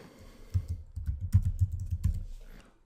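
Keys clatter on a computer keyboard as a search phrase is typed, a close, irregular run of soft clicks in short bursts with no talking.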